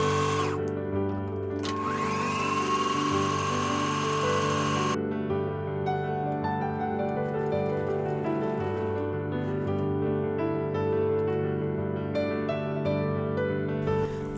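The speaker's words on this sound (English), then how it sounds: "now I'm going to sew the shoulders together and then the side seams" A sewing machine stitches the shoulder and side seams of a linen shirt, its motor whirring in a steady, even drone that runs for about fourteen seconds.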